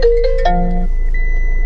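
An incoming call on a mobile phone sets off a loud electronic ringtone, a short melody of clear rising tones with one held note that then cuts off.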